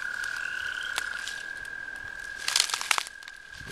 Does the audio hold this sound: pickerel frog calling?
yes